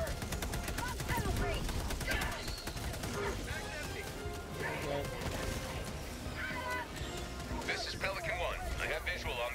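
Loud, dense bursts of rapid gunfire and blasts from a video game, with voices talking over the chaotic action.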